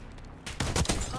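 Shotgun fire with the Omni movement system in the Black Ops 6 beta, a couple of sharp, loud blasts in quick succession after a quieter moment, close and punchy.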